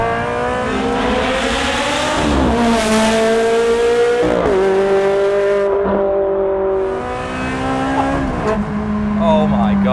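Loud, sustained V8 engine of a Ferrari 360 Challenge Stradale road car, revving up and down with rising and falling pitch sweeps, and one hard rev near the middle.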